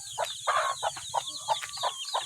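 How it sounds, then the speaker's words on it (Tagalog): Backyard chickens cluck nearby in a quick, irregular series of short clucks and chirpy calls, close and clear with no talking. "Ayan, ang aking mga manok."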